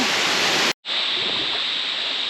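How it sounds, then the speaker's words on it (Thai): Water rushing at the top of a waterfall just before it plunges over a cliff, a loud, dense, continuous roar with a brief dropout near the start. "ตอนนี้นะครับก็อยู่จุดที่เป็นบริเวณ ทานน้ำไหลนะครับก่อนจะเป็นน้ำตก พุ่งลงที่หน้าผานะครับ"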